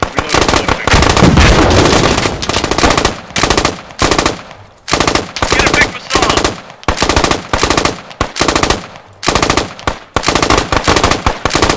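Heavy automatic gunfire in the tactical shooter game Squad Ops, loud sustained bursts broken by short pauses, with one larger blast near the start where a grenade goes off amid the shooting.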